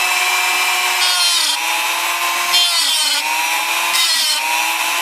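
A Dremel rotary tool cuts freehand partway through the paper guide slider of an IBM Selectric III typewriter, giving a steady, loud high-pitched whine and grinding buzz that swells and dips slightly over the cut, with no talking.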